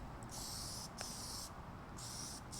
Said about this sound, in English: So you just want to continue to spray